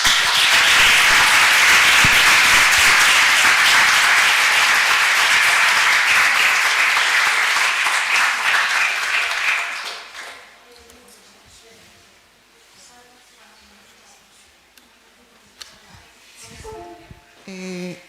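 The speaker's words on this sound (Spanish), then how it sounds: "un aplauso tamén para eles, ¿no?" Strong, sustained audience applause for a project team at a university event on applied video games, running for about ten seconds before dropping to quiet room noise and scattered talk.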